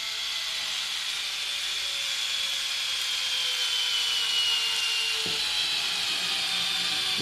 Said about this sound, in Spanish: Ahora intentaré tornillar otra vez el mismo, pero en otro agujero.